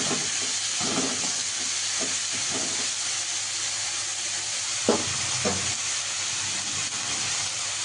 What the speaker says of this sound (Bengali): লাল হওয়া পর্যন্ত একটু ভাজবো।